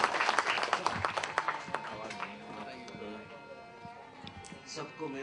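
An audience at an Urdu mushaira in Delhi claps to welcome a guest. The applause is dense at first, then thins into scattered claps, and a voice comes in over the fading clapping.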